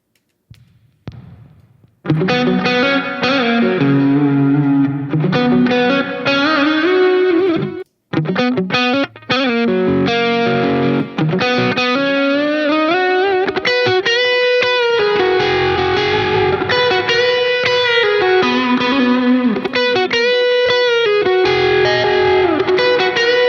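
A low-gain electric guitar solo processed through Slate Digital plugins rings out with sustained, bending lead notes over a full backing mix, loud and continuous with a little reverb.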